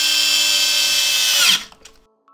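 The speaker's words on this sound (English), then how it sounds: "and then I'll screw these in." A power screwdriver drives a screw into an Xbox One X during a power supply replacement, one loud steady whine that winds down abruptly, followed by a few faint clicks.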